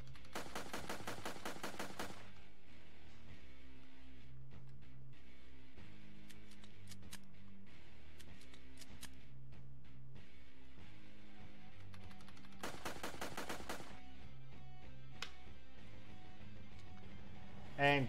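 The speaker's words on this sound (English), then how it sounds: "In which other game you have Santa with a shotgun?" Rapid bursts of shotgun and machine gun fire from an Amiga zombie-shooter video game starring Santa, loud dense volleys at the start and again near the end, with sparser shots and game music in between.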